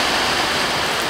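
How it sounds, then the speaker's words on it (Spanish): Heavy rain falling outdoors near a street, a dense, loud, steady hiss of water with no gaps and no voices. "Ahí vamos a ver cómo está lloviendo allá afuera."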